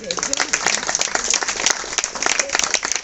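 Audience applause at a museum event in Ariano nel Polesine, following a roll call of names: steady, dense clapping from a crowd, close and sustained throughout, with a voice faintly present beneath it.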